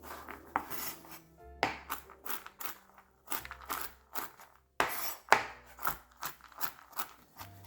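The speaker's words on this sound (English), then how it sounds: "I'm going to bring over my pecans, give those a chop" Pecans chopped on a board with a knife while making low-carb pumpkin bars: a close, irregular series of sharp cutting taps and crunches, with short pauses between bursts and no talking.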